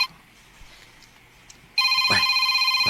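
A cellphone ringtone bursts in partway through after quiet room noise, loud and close, with pulsing repeated electronic tones continuing to the end.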